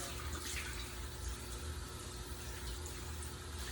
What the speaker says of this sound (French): Ensuite, on rince à l'eau froide.